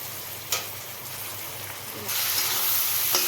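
Onions and chopped tomato fry in a pan with a constant sizzle that swells louder partway through, with a couple of brief clinks or stirs.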